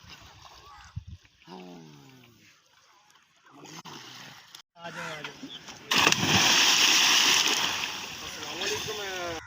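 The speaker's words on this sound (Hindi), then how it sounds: "वहाँ से चढ़ेगा और वहाँ से पानी में छल लगाएगा।" A person jumps into canal water with a sudden loud splash followed by sustained rushing water, after quieter outdoor moments, and people talk nearby.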